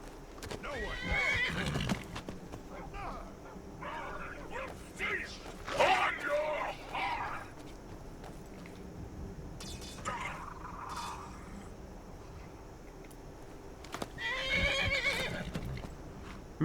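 A horse in Skyrim neighs several times with loud, shaky whinnies amid clip-clopping hooves and snorts, some calls near and others more distant, with a quiet background hum and no talk.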